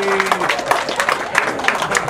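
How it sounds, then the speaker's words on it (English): A group at a cancer prevention activity session claps in a round of applause, a lively burst of uneven claps following a brief voice at the start. "Give yourselves a round of applause."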